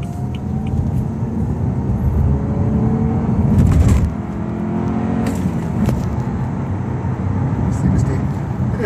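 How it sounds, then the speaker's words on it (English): A 2014 BMW 320i with a manual transmission accelerates up an inclined highway on-ramp, its engine droning steadily through the gears with a brief lull at a shift, while a person talks over it. "It's an incline, so let's see how fast we can go up to 60 miles an hour."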